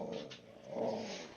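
A dog in a video game roleplay growls and howls in a low, rough, wavering voice, close and fairly quiet, lasting through a short burst with no speech.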